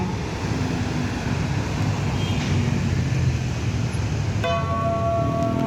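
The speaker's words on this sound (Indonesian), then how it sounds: "Simpati Star patas pukul 20:07 melintas di Bundaran Lambaru Aceh Besar." A Simpati Star express bus passes by at night at the Lambaru roundabout in Aceh Besar, a loud steady roar of traffic with a brief horn-like tone near the end, with no talk.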